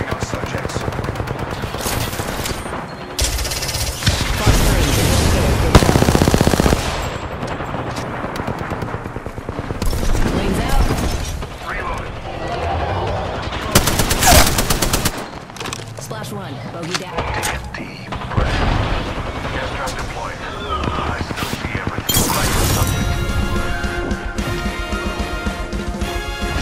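Rapid bursts of automatic and single-shot gunfire from the Apex Legends battle royale game, loud and dense with booms and impacts in a ranked match, with voices talking over the action throughout.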